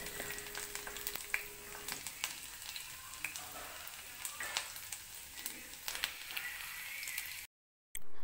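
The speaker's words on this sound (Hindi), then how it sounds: "लहसुन को हल्का सा हम ब्राउन होने तक अच्छे से भूनेंगे" Steady crackling sizzle of garlic frying in hot oil until browned, with scattered pops and light scraping, fairly faint and continuous.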